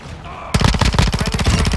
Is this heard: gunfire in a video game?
yes